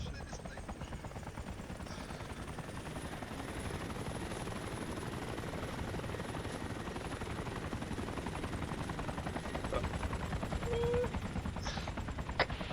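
A Merlin helicopter in the video game ARMA drones with a steady, loud rotor and engine roar throughout, with occasional faint gunfire-like cracks in the background.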